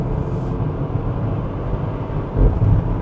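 Maserati Levante Hybrid engine in sport mode, a low steady idle rumble with a brief throaty rev swell near the end, close and fairly loud with no talk.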